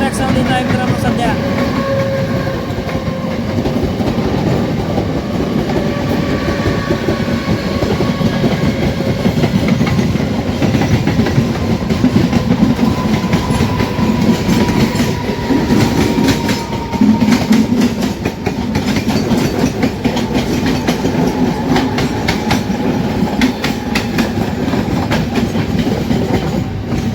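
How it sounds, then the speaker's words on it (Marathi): Riding the Deccan Queen Express between Pune and Mumbai during the monsoon, the cabin fills with a loud, continuous rumble of wheels on track and repeated clickety-clack rail joints throughout. "काय जबरदस्त ट्रॅक साऊंड येत आहे, मस्त ट्रॅक साऊंड येत आहे मित्रांनो सध्या"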